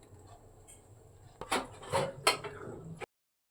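Lid closing on a pot of Malabar chicken biryani to cook on dum: a few close metallic clanks and scrapes of the lid settling over the pot, then an abrupt silence.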